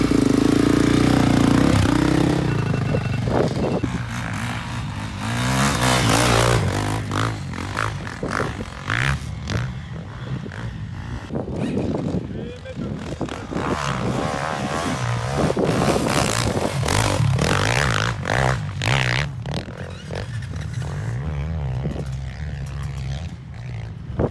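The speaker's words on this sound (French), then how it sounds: "Donc c'est bien une 450, hein, vu le bruit." A 450 cc enduro motorcycle engine idles and then revs repeatedly, loud and close. The blipping throttle rises and falls with a rough mechanical roar, and there is no talk.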